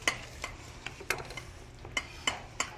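Spoon stirring a parsley mixture in a bowl, with close, light clinks and taps at an uneven rhythm, about eight sharp contacts over a quiet scraping background, no talk.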